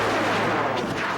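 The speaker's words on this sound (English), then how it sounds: "From a distance, the explosions may not be impressive" Ground-to-air missile explosions heard from a distance, a dull rumbling burst with a broad wash of noise and a couple of sharper cracks near the end.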